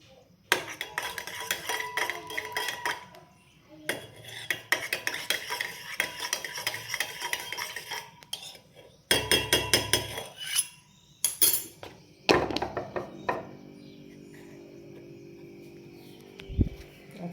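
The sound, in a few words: spoon stirring honey and lemon in a glass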